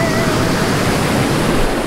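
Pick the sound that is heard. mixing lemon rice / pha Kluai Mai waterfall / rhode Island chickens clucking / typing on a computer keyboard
pha Kluai Mai waterfall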